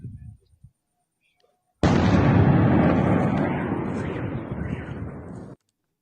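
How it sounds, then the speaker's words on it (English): A large explosion in war footage sets off a sudden, loud, broad roar that holds for several seconds and then cuts off abruptly, with a few faint thumps just before it. "we also got to see another clip of the explosion seen right here"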